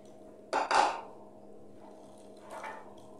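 A few dull clinks from a bowl and utensil as dry ingredients for puto cheese are stirred, two close knocks early and a softer scrape near the end, over quiet background hum.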